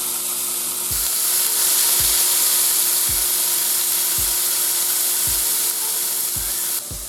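Onions and mushrooms fry loudly in a pan with a continuous bright sizzle, punctuated by regular low knocks roughly every second from stirring or the pan shifting, no voices.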